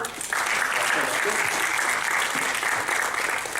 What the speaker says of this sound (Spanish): Muchas gracias a la decana, un buen aplauso.